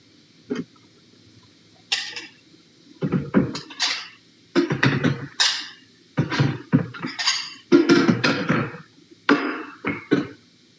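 Bowls and dishes clattering and knocking together in a home kitchen sink, a series of short bursts of clinks and scrapes with brief pauses between them, close and fairly loud, no talking.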